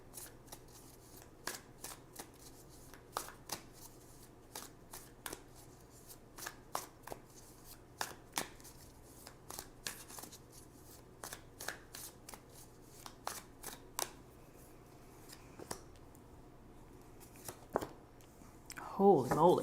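Tarot cards are shuffled near and crisply, a long run of sharp riffling snaps and soft slides spaced irregularly, ending in a louder rustling flurry as the deck is gathered.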